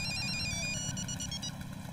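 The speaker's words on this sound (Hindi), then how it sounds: "फोन आया" Telephone bell ringing steadily in a Mumbai home comedy scene, a continuous trilling ring filling the moment with low background noise beneath it.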